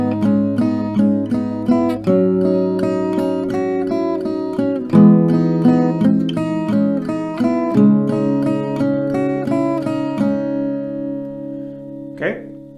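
An acoustic-style guitar plays a song's melody with steady downstrokes only. Clear, close notes ring on in an even rhythm for about twelve seconds, ending with a brief higher scrape.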